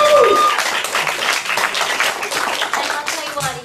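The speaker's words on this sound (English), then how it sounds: "come on, round of applause for that one" Lively audience applause with dense clapping and cheering voices, loud and sustained across the few seconds, fading slightly at the end.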